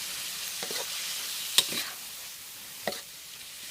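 Pork fried rice with kale tops stir-fried in a pan gives a soft, faint sizzle with a few brief scraping stirs of the spatula.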